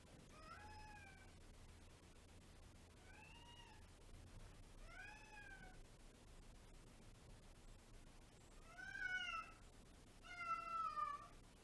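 A cat meows five times at spaced intervals, fairly faint and distant, the last two calls louder and more drawn out over a light background hiss.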